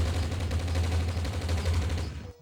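Kalashnikov rifle fired in celebration of a wedding, a dense continuous burst of loud, close gunfire lasting a couple of seconds before cutting off abruptly.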